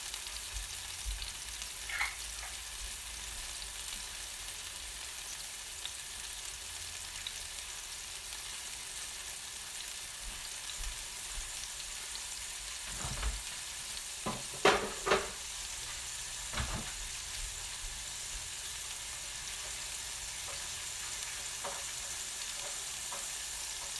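Garlic frying in a pan for sweet and sour chicken: a steady broadband sizzle with no letup, and a few brief clinks and stirring knocks around the middle.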